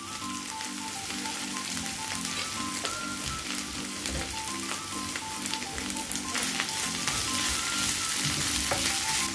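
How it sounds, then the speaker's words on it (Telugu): Capsicum fries in a pan with onions, curry leaves and ginger garlic paste, giving a loud, continuous close sizzle with crackles and occasional stirring scrapes throughout. "క్యాప్సికమ్ మనకు బాగా ఫ్రై అవ్వాలండి"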